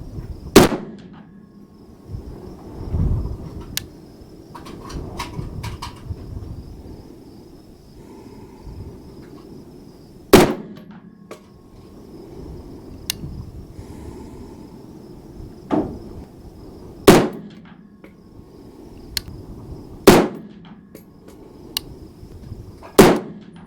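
A Sterling Arms R18 rifle converted to 6.5 Grendel firing hunting loads at a target, six or seven loud, sharp, separate shots spaced several seconds apart, each followed by a brief echo, with faint handling noise between them.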